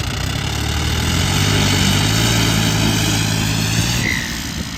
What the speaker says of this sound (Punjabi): ਲਓ ਜੀ ਬਾਈ ਦੋਨੇ ਟਰੈਕਟਰ ਲੈ ਕੇ ਪਹੁੰਚ ਗਏ ਨਵੇਂ ਬਾਈਪਾਸ